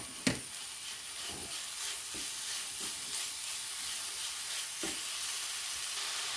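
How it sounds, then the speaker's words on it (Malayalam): Grated coconut being stirred in a hot pan for a banana snack gives a faint continuous sizzle, with soft scraping strokes of the spoon at irregular intervals and one sharper knock near the start. "ഇതിലേക്ക് ഞാൻ കുറച്ച് നാളികേരം ഇട്ട് കൊടുക്കുന്നുണ്ട് ഇളക്കി കൊടുക്കട്ടെ"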